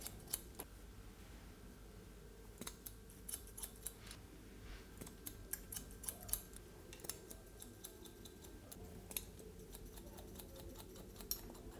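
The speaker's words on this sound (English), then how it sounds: "I'm just point cutting into the sides here" Small, crisp scissor snips of point cutting into the sides of a man's cropped hair repeat in an irregular rhythm, quiet and close, with no talking.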